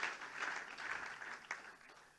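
An audience at an award ceremony applauds, a soft, distant patter of many hands clapping steadily for a couple of seconds, fading slightly at the end.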